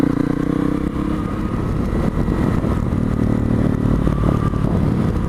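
A Honda CRF250L dual-sport motorcycle engine runs continuously nearby, a steady buzzing single-cylinder drone with slight throttle variations and no talking.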